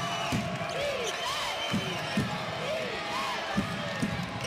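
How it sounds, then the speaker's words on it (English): A basketball arena crowd at an NCAA men's game between UL Monroe and SMU roars on its feet, a dense sustained wall of cheering with sneaker squeaks and ball bounces, while a commentator talks over it. "And the crowd is into it. On their feet, they can sense a comeback for the Mustangs."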